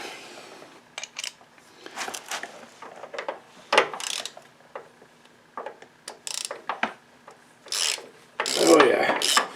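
A wrench works a thread-locked 15/16 bolt loose on a Husqvarna LGT 2654 garden tractor's Kohler engine, giving close, intermittent ratcheting clicks and rasping scrapes in irregular bursts, with a heavier grinding burst near the end.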